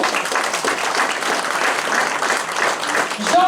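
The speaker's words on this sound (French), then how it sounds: "Merci de les applaudir" Audience applauding village mayors at a local ceremony, a steady, dense wash of clapping from a crowd that holds for the whole stretch, with a few faint voices mixed in underneath.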